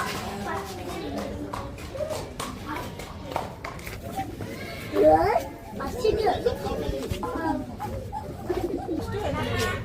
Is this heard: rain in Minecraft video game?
no